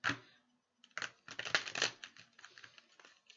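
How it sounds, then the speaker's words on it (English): A deck of cards being shuffled close up, heard as quiet crackling bursts of riffling that pause briefly and then resume in rapid flurries, with no one speaking. "I shuffled it, but I'm going to shuffle it again."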